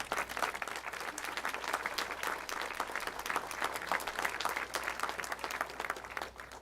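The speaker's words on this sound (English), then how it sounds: "So they're really deserving of a big hand of applause" Steady audience applause at a library grand opening, a dense, even wash of many hands clapping from across the room, moderately quiet and continuing throughout.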